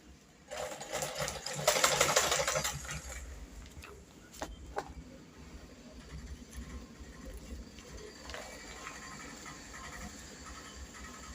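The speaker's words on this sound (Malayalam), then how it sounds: "റൗണ്ട് ഷേപ്പിൽ തയ്ച്ച് അവിടെ സൂചി നിർത്തിയിട്ട് ഇതിൻ്റെ പുറത്തുകൂടെ ഇങ്ങോട്ട് തയ്ക്കണം" Domestic sewing machine stitching a round shape on a fabric bag, a steady mechanical whirring hum with a louder, busier burst early on, then quieter running and faint clicks, close by with no speech.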